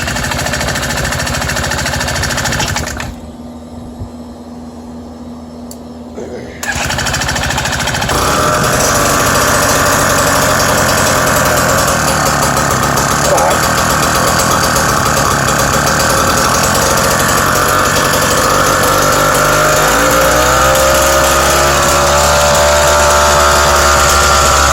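Small BT-80 engine on an electric-start motorized bicycle with a custom exhaust pipe runs loud and close, rough and uneven as it struggles to idle, briefly dropping off before picking back up and droning on steadily.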